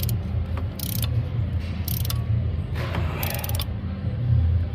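A hand tool is cranked to seat an injector cup on a 7.3 Powerstroke diesel engine, giving close, loud, repeated creaks and ratcheting clicks in uneven bursts over a low mechanical hum, with no talk.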